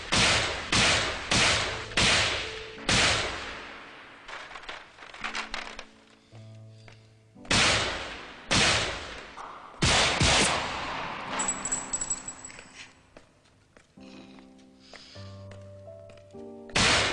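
Gunfire in a violent Takeshi Kitano film finale, loud sharp shot bursts in rapid clusters separated by quieter stretches with low music tones.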